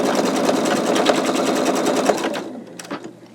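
A computerized embroidery machine stitches a skull design, a loud, close, fast mechanical whirring rattle of rapid needle strokes that stops abruptly near the end, followed by a few faint clicks.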